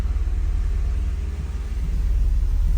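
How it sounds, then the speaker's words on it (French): A Mercedes W124 E300, an abandoned collector car, idles just after starting with a steady, deep rumble that holds evenly and close throughout. "elle a démarré au premier coup de clé"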